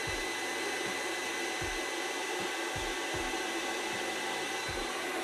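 An induction heater heating a rusted nut gives a steady, loud broadband hiss with a low electrical hum that pulses irregularly, continuous throughout and with no voices.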